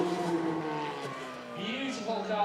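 A Ferrari F430 engine at a sound-off revs and shifts pitch, its throaty note rising and falling up close with a raspy, steady drone.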